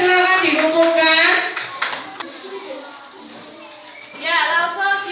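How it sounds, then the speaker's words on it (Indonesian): A class of children applauds a group that came to the front, with a burst of scattered claps near the start and more toward the end, mixed with a teacher's voice and children's chatter. "Tepuk tangan buat kelompoknya Mas Redi yang sudah mau maju ke depan"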